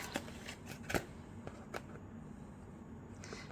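Scissors cutting out a paper coaster template for resin coasters, faint close snips and paper rustles at an irregular pace.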